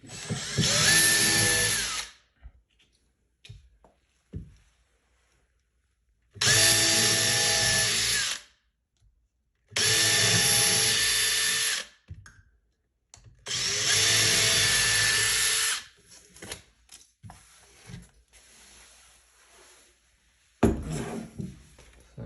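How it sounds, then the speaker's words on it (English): A power drill whirs in four loud bursts of a couple of seconds each while driving screws into an IKEA corner cabinet, separated by quiet pauses with light clinks and handling noises. "We're gonna drill straight down on these."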